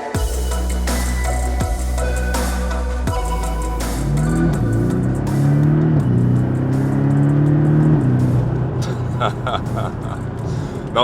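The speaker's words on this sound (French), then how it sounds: "on va aller profiter de ce fabuleux châssis, de ce fabuleux moteur" A Porsche 718 Boxster S with its four-cylinder engine accelerates, the engine note climbing through successive rising pulls with brief shifts, loud and close, with someone talking over it.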